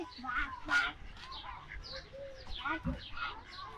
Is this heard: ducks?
yes